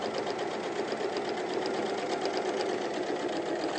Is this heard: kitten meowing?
no